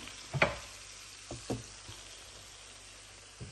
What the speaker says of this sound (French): nous allons le faire frire à feu très réduit